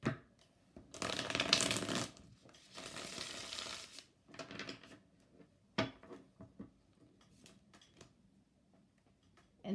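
Sunny Forest Tarot cards are shuffled close by in soft papery riffles and bursts, several rounds separated by quiet taps and shuffles, with no voices.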